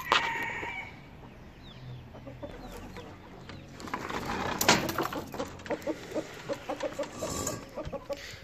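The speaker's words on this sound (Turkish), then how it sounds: "Tavuklarımız hemen çıktılar zaten." Chickens and a rooster in a backyard coop in a city centre, clucking and calling as they come out, with a crow, short rhythmic clucks toward the end, and scattered bird chirps, moderately close.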